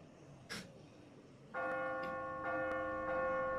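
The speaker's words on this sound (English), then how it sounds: "oh, let's ring the bell." Church bell in The Walking Dead video game: one faint strike early, then from mid-clip a loud, sustained ringing with repeated strikes every second or so, tones lingering and overlapping, no talking.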